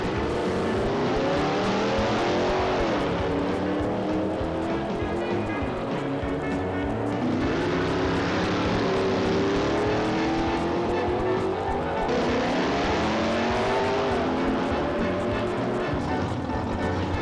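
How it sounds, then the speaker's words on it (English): Early-1990s drag racing cars roar and accelerate hard down the strip, a continuous loud engine howl with rising pitch sweeps repeating as successive runs launch and pass. "We're going to show you a few highlights of some of the earlier races in the day"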